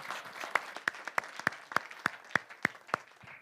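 Applause for Adam at a brand summit, sounding as distinct rhythmic claps, about a dozen sharp evenly spaced hits over a faint background patter, fairly quiet and close.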